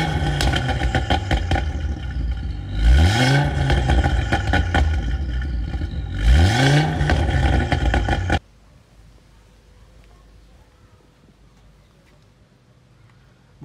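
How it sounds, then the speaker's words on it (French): A Mercedes A45 with a modified Miltech exhaust revs twice, each a loud, close rising blip about three seconds apart, over a burbling idle that cuts off abruptly to near silence. "l'échappement modifié avec la Miltech de l'A45"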